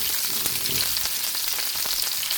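Chopped onion and garlic sizzle loudly in a pan, a dense, steady crackling fry heard close up with no talking.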